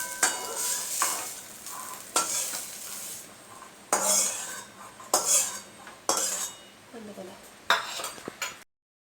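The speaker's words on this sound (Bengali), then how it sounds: "তো ঘি করলা ভাজাটা আমার হয়ে গেছে, এবার আমি একটা বাটির মধ্যে তুলে নিই।" Ghee-fried bitter gourd is scooped from a sizzling pan into a bowl, with repeated bursts of utensil scraping and clinking against metal over a soft continuous frying hiss, each stroke separated by short pauses.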